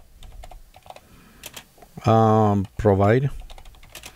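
Key clicks from a computer keyboard come in scattered bursts before and after a short stretch of talking, as someone types a node name into the ComfyUI search.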